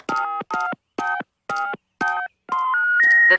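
Five short, evenly spaced telephone keypad tones beep one after another, then a longer pair of rising tones rings out, loud and close with silence between presses.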